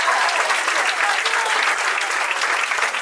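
Comedy club audience giving a big round of applause for a performer, a dense, even roar of many hands clapping that stays loud and steady throughout with no talk over it.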